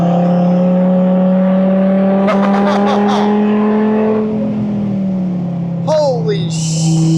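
A Dodge Viper SRT10 ACR-X V10 roars loud and close on a race track, holding a sustained high drone that rises and falls with throttle, with an excited voice shouting over it.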